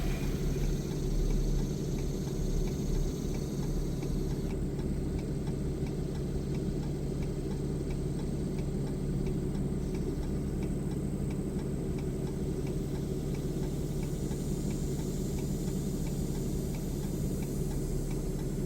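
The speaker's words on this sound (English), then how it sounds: "sorry about the clicking. I've got to leave the four ways on" The hazard flashers on a hotshot truck parked at the roadside of a two-lane road tick in a steady, regular rhythm, with a low engine idle droning underneath throughout.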